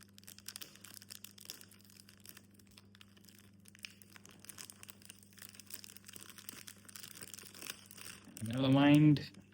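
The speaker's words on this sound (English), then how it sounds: "let me go ahead and unbox it" Fragrance box being unboxed, soft crinkling and rustling of packaging throughout at a low level, rising to a louder burst near the end while a steady hum sits underneath.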